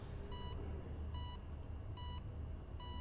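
Heart rate monitor in the video game Beyond: Two Souls beeps four times at a steady, evenly spaced rhythm, clear and moderately loud over a constant low background hum.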